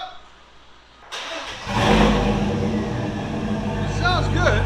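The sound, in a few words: 2013 Chevy Silverado 6.0L V8 starting, NTR racing muffler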